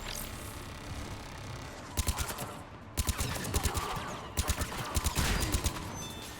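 Gunfire in the sci-fi shooter Mass Effect 3: rapid clusters of sharp automatic shots in short bursts, separated by brief lulls over a low background rumble, close and fairly loud.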